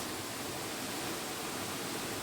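Waterfall in a natural setting, a dense, continuous roar of falling water that stays steady and broadband, with no voices.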